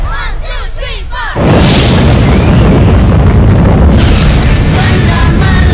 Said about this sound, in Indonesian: Benda meledak